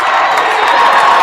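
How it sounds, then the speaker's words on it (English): A high school basketball crowd of Princeton fans cheers in a gym, a loud, steady wash of shouting and cheering that fills the whole short moment without a break. "this Princeton crowd is getting into it. They're hyped."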